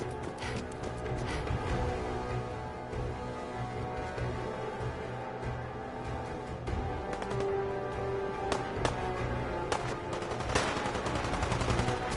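Continuous gunfire in the Fallout 4 video game, steady crackling shots over a dense game soundscape with music-like tones, holding an even loudness throughout with no voice on top.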